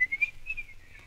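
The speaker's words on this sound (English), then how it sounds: "It's called Russian Dance, and it's from Petrushka." A man whistles Russian Dance from Stravinsky's Petrushka, a clear, close, lively melody in a high, pure tone that slides between notes, heard alone for about a second.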